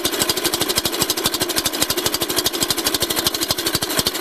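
A kitchen mixing machine runs at speed while cheesecake is being made, giving a loud, steady, rapid mechanical rattle and whir that carries on unbroken and close by.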